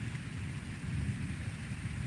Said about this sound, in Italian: Ora invece lampi, tuoni